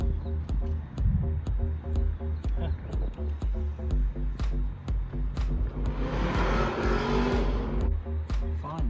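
A Triumph TR7 with a swapped-in 3800 engine runs with a steady, rumbling idle that swells into a louder rev toward the end, under ongoing talk and some clicking.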